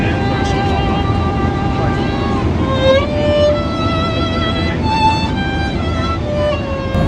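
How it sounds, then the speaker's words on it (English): A passenger airplane takes off from Chengdu Tianfu Airport, with a steady, loud engine drone and whine filling the cabin throughout while people talk over it. "Our flight is the first flight taking off from the biggest hub in southwest area, Chengdu Tianfu Airport"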